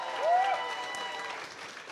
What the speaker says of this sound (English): Big round of applause once again.